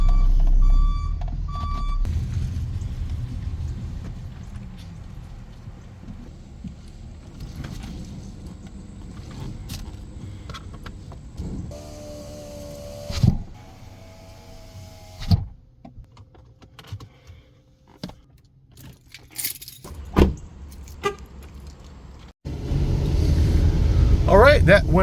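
Vehicles being moved and swapped around a van-life campsite, with a series of electronic reversing beeps early on followed by engine and movement noises at moderate distance, some faint voices and a louder rumble near the end.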